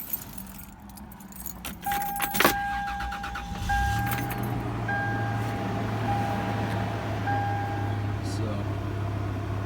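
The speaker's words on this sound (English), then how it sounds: "We'll go ahead and start it up here for you." Keys jangle briefly, then a 1998 Toyota 4Runner engine turns over and settles into a steady low idle, with a faint electronic chime beeping intermittently above it.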